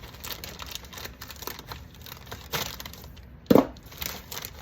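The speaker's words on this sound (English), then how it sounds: "I'm gonna grab our bag of hash browns. Just cut open here." A plastic bag of frozen hash browns is sliced open and handled, giving soft crinkles and rustles throughout with one sharper crackling burst near the end, close and fairly quiet.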